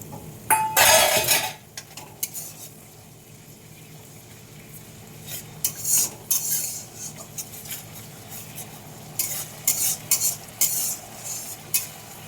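Garlic added to hot spiced oil in a pan for an egg and potato curry gives a low, steady sizzle under scattered scrapes and clinks from stirring. One louder burst comes early and a run of quick taps near the end, with no voices.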